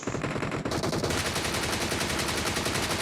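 Rapid automatic gunfire in the video game PUBG Mobile, a dense unbroken burst of shots hammering on for about three seconds, loud and close, with no speech.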